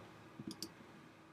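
Three or four quick, faint computer mouse clicks in close succession within a second, alone against quiet room tone.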